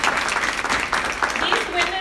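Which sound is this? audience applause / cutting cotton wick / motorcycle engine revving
audience applause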